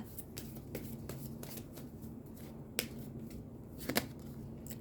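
Tarot cards shuffled and drawn by hand, soft riffling and flicking with a few sharper snaps of cards being laid down, quiet and close.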